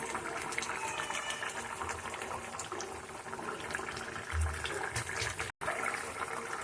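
Bata fish curry simmering in a pot on a gas stove, a soft, low bubbling and gentle liquid churning heard close but faint, with a brief dropout near the end.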